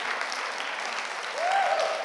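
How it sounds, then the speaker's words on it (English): Applause from a conference audience for a speaker fills the room as a steady, moderately distant wash of many hands, with a brief tonal voice or whistle rising over it midway. "can we have a massive round of applause for Ali Meehan"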